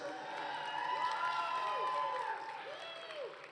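A graduation commencement crowd cheers and claps from a distance in a large venue, with whoops and shouts of the audience swelling and then fading, while an amplified voice carries over the noise.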